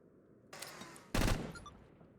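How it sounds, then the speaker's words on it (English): Cannon weapon fire from the Madness: Project Nexus video game: two loud, close blasts about half a second apart, the second heavier, each ringing on with a ragged decaying tail. "It's not the Lancer, it's the cannon."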